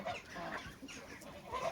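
Chickens, including an Arab breed, cluck and call near a coop with chicks, a close, continuous fowl chatter throughout.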